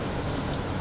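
Steady rain falls and patters on surfaces outdoors at a crowded show launch event, a dense, even hiss without pause and no talking.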